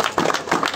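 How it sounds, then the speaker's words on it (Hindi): Applause from an audience welcoming a team at a song celebration event, a dense burst of clapping that swells and eases across the short moment without speech. "हम सभी जोरदार तालियों से एक बार इस पूरी टीम का स्वागत करते"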